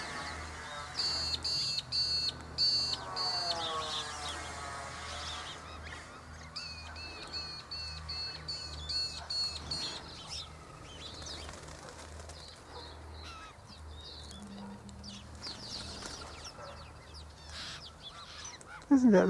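White-winged choughs chase an ibis in grass, with harsh piping and honking bird calls, some distant and some nearer, beneath a steady outdoor background.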